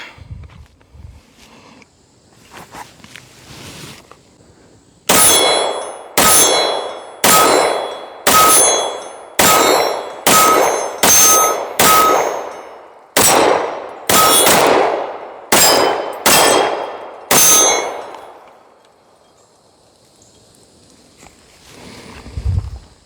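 A Canik TP9 Elite Combat pistol fires about a dozen loud, sharp shots in a quick, fairly even string, some close together, with quiet moments before and after.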